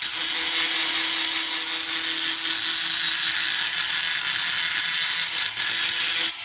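A carbide burr grinds a knife handle during assembly, producing a continuous, bright, high-pitched grinding whine at close range with small dips in intensity.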